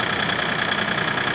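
An ISEKI TU1 diesel minitractor idles steadily and close by, a constant mechanical rumble with a slight whine, while its hydraulic hitch lowers an implement.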